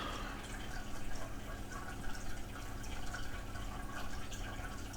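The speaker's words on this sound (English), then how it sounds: "I need to fill the fish tank with water, so if you hear that, that's the fish tank" Water pouring steadily into a fish tank, a continuous trickling, splashing wash with faint drips that holds at an even level throughout, close by and with no voices.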